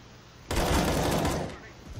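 Gunfire in Counter-Strike: Global Offensive, a sudden burst of loud, dense shots lasting about a second before tapering off, with quieter game noise around it.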